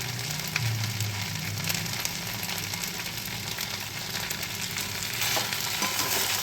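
Chow mein noodles fry in a pan with a steady, close sizzle, stirred now and then, the crackle continuing alone without any talk.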